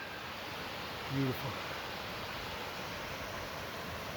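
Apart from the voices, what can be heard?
huge waterfall in a valley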